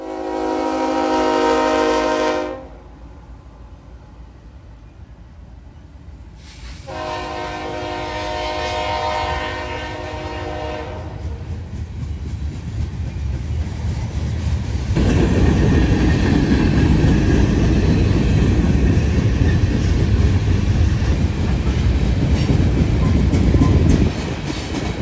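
Norfolk Southern freight train crossing Walnut Avenue in London, Ohio, with loud blasts of its horn, then a steady rumble and clatter of cars passing close by, with a BNSF SD70ACE locomotive at the rear.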